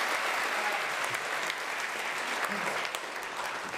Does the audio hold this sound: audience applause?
yes